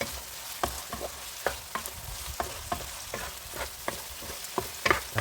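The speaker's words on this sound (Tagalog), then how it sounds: "Pagkatapos haluin ulit natin." Sotanghon noodles with oyster sauce are stirred in a sizzling pan, a spatula scraping and tapping in a quick, regular rhythm over a soft, continuous frying hiss.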